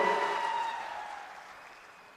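Applause from a crowd at a political speech rally, a dense wash of clapping that fades steadily over about two seconds, heard on its own without talk.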